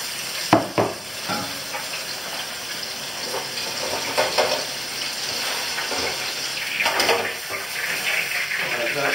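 Beef frying in a pot of oil crackles and bubbles in a steady sizzle, punctuated by a few sharp clinks and splashes as pieces go in, heard close with no talk.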